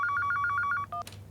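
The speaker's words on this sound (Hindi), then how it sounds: "भाई फोन है भाई।" A telephone rings on a comedy stage show: a rapid, steady electronic trill repeating for under a second, followed by a short two-tone beep and a click, fairly loud and close with no talk.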